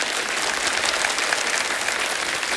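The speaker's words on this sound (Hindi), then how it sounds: "वाह क्या तालियां बज रही" A studio audience on The Kapil Sharma Show bursts into dense, steady applause, loud and close, filling the whole stretch without pause and with no talk over it.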